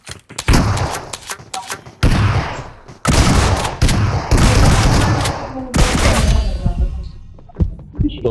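Bursts of rapid gunfire in a 2v1 shooter game match, several loud volleys of shots cracking in quick succession with brief pauses between, close and dense, with no talk over them.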